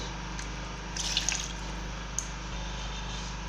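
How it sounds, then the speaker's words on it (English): Water being added to a pot of pepper soup: a faint, steady trickle with a few soft splashing drips, heard alone in a quiet kitchen. "we need to add enough water"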